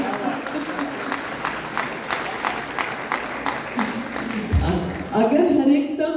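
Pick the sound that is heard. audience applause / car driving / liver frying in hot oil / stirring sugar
audience applause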